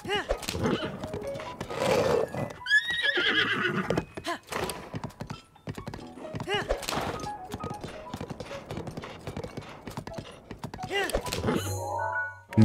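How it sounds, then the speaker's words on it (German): In the video game The Legend of Zelda: Breath of the Wild, a horse whinnies loudly and close, its hooves clip-clopping in bursts between dull thunks, with game music and effects around it. "Hoffen wir mal, dass das Pferd nicht anbrennt."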